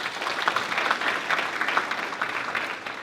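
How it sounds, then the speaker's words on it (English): Audience applause at a Black History Month event at an air base, a steady wash of clapping from a crowd that carries evenly for a few seconds, moderately loud and without talk. "Give them a round of applause."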